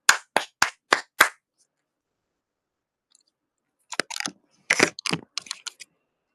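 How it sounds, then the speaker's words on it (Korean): Hands clapping in a quiet indoor live stream, five sharp close claps in quick succession, then after a pause a looser, busier flurry of claps and taps. "박수!"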